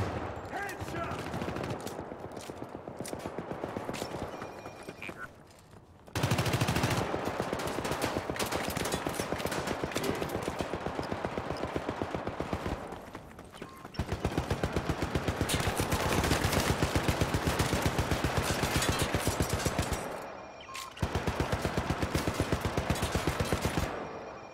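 Sustained automatic turret fire in the video game Syndicate, rapid dense bursts that cut out briefly around six, fourteen and twenty seconds before resuming at full loudness, close and harsh throughout.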